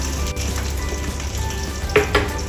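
Brinjal (eggplant) slices fry in a small amount of oil, giving a loud, close, continuous sizzle with a few brief scraping stirs toward the end.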